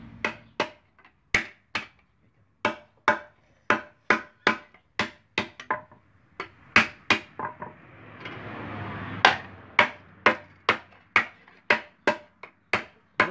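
A metal cowbell (chocalho) being hammered round at a small workshop in Agrestina, Pernambuco: sharp, ringing metallic strikes in a fairly steady rhythm, close and loud, with a short stretch of scraping or brushing noise in the middle.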